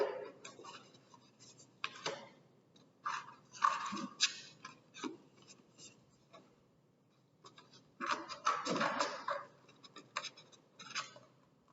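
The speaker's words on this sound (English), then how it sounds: "So when you're cutting out an image from a magazine" Scissors snip through a magazine page to cut out an image, slow quiet clipping and rustling of paper in irregular bursts, close up with no talk.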